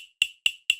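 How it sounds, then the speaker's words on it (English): Clave percussion sound for an Afro House track: three sharp, bright wooden clicks at an even rhythm, each with a short decaying tail, close and dry, alone. "Another layer that I'm going to add is this clave percussion sound"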